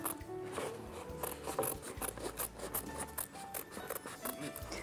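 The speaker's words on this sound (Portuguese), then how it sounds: "Vamos cortar a parte inferior." Scissors cutting fabric for a lampshade cover, close-up repeated snipping and rasping blade strokes at an irregular rhythm with soft fabric rustle and no talking.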